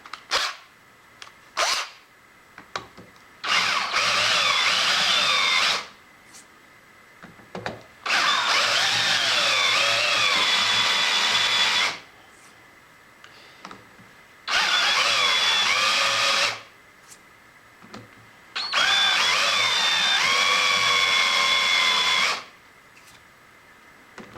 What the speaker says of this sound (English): we want to chamfer these top edges just a little bit